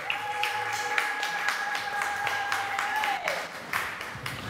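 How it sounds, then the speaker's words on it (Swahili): A Sunday church congregation in Tanzania claps in a steady, rapid patter while a sustained high ululating trill rings out over the hands, then breaks off, leaving the clapping to carry on. "naomba chapia makofi na vigelegele kwa Bwana"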